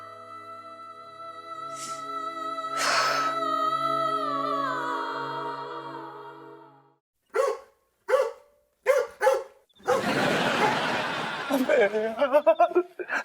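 Barking from street dogs in a residential lane, a burst of several sharp loud barks after sustained talk and laughter, then more scattered barking mixed with voices.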